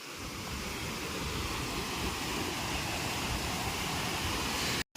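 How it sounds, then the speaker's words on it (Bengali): Steady broadband roar of rushing water from the Sanaghagara waterfall in a Keonjhar forest, a constant full wash heard close and alone, ending in a brief cut near the close. "এই যে দেখা যাচ্ছে সানাঘাগরা ওয়াটারফল"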